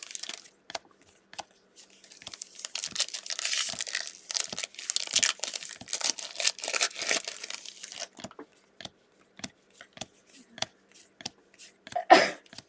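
A single sharp sneeze bursts out near the end, close and fairly loud, after a long stretch of plastic wrapper crinkling and tearing as trading card packs are opened at a card break.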